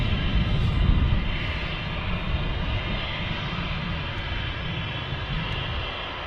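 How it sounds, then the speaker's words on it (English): A Ryanair jet departs Manchester Airport for Alicante, a broad, steady engine roar that swells slightly early on and then holds as it climbs away. "This Ryanairs off to Alicante."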